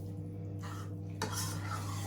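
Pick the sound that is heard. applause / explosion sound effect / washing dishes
washing dishes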